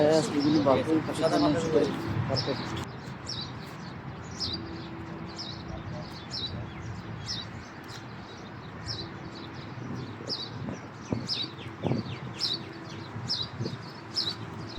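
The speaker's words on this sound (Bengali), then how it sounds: "শারজাহ ন্যাশনাল পার্কে পাখিদের কিচির মিচির শুনতে আপনাদের খুবই ভালো লাগবে" Birds chirp in Sharjah National Park, sharp high calls repeating in a steady series throughout, with a voice talking briefly at the start.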